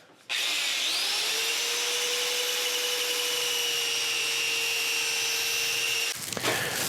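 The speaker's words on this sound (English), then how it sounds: "A little bit of sanding right in here." A wooden bowl on a lathe is sanded with 180 grit sandpaper: a steady, loud whirring hiss with a high whine holds for about six seconds, then stops abruptly, leaving quiet rustling.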